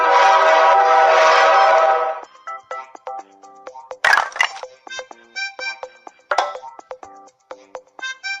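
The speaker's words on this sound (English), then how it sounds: "Train." Toy train sound from a toddler's sound puzzle, a short electronic chugging burst followed by a tinny tooting whistle melody with a couple of sharp clicks, loud and close.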